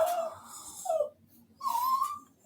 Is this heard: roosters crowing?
no